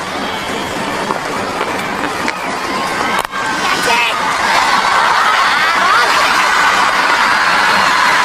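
Large cricket crowd cheering and roaring at a Sri Lanka vs India final in 2000, a dense continuous swell of voices that rises louder partway through, under a commentator's voice.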